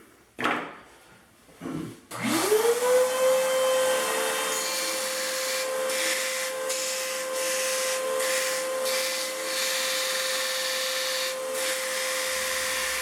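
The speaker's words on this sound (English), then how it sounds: "I'm going to grind this down a little bit" A belt grinder spins up and runs steadily with a whining tone while a kydex sheath is ground down, followed by intermittent rubbing contact; no talking.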